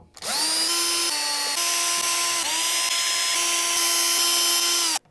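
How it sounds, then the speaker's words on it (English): A cordless power drill backs out the pickguard screws on a 2011 Jazzmaster electric guitar, whirring steadily for about five seconds with a few brief dips in pitch as the trigger is eased. "So now I'm just gonna remove my pickguard screws."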